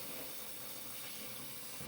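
Water fills a pet water fountain for a cat and dog, making a steady, continuous hissing rush without a break and with no voices.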